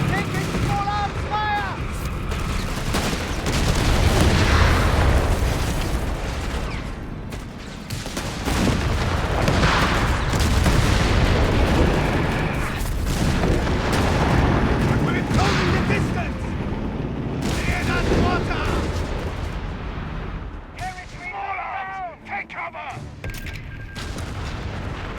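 Small arms fire and explosions rumble through a Company of Heroes 3 battle on the Italian front, a steady dense barrage of shots and booms that continues for about twenty-five seconds, with in-game voices calling out over the combat.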